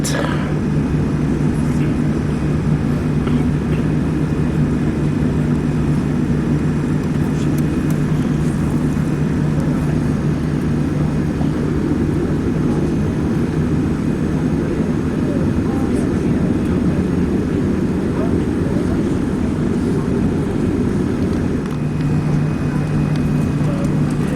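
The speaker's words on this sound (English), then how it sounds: "taxiing to JFK Terminal 8." Airliner taxiing toward Terminal 8 at JFK airport, a steady loud engine drone with a constant low hum that holds unchanged throughout, heard from inside the cabin.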